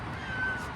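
A short, faint cat meow rises briefly over quiet background noise.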